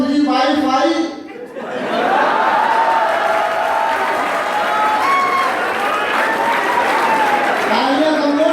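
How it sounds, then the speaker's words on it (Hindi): Audience applause at a Hindi poetry recital swells after a brief spoken line and continues steadily for several seconds, a dense crowd clatter with voices carrying over it. "तालियां कमजोर थी आपकी"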